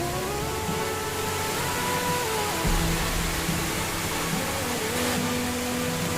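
Steady broadband rush of water at the seventh tier of Erawan waterfall in Kanchanaburi, Thailand, a constant even roar filling the whole clip with no voices.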